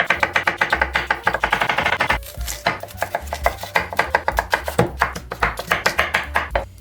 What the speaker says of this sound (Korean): 양배추, 양파, 호박, 당근 등 집에 있는 야채를 썰어 준비합니다